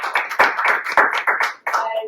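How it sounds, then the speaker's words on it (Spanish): Applause welcoming a contratenor, flautist and pianist trio at a concert event, a few sharp clustered bursts of hand claps rising and breaking off, fairly close and loud. "Le damos un fuerte aplauso."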